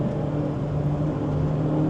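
A BMW E30 driven hard through corners, its engine holding a steady loud drone with a strong low hum that stays constant and close throughout, no voices.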